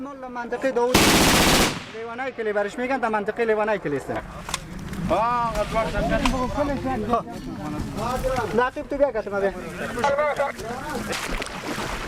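A long, loud burst of rapid gunfire from a war video plays near the start, then voices talk over fainter background sounds for the rest of the clip.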